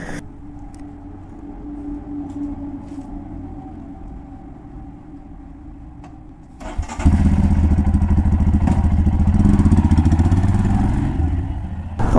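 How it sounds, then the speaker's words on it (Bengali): A Royal Enfield Himalayan motorcycle idles quietly at first, then its engine rises to a loud, steady close-up rumble as the bike sets off and rides, with no one talking. "অবশেষে কিন্তু আমি বেরিয়েই পড়লাম আমার বাইকটা একটু ওয়াশিংয়ের জন্য।"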